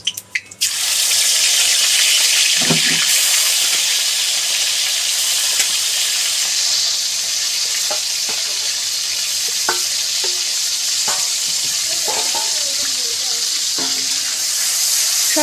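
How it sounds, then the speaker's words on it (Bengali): Prawns hit hot oil in a wok with a sudden burst, then sizzle in a loud, continuous hiss broken by occasional clinks and scrapes of stirring. "এবার চিংড়ি মাছগুলো ভেজে নেব।"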